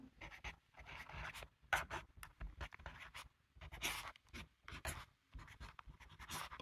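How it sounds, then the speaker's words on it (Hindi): Pen or pencil writing a math question by hand on paper, with bursts of scratchy strokes and short pauses between them, close and fairly quiet, with no talking. "यहाँ पे हम क्वेश्चन लिख लेते हैं सबसे पहले"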